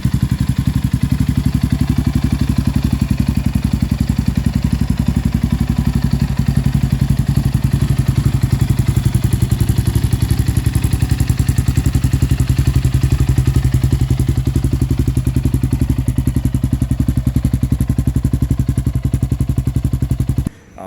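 Yamaha Raptor 700 ATV with a freshly rebuilt engine, idling loud and close with a steady deep thumping rumble and mechanical clatter, holding fairly even through the clip rather than climbing into sharp revs.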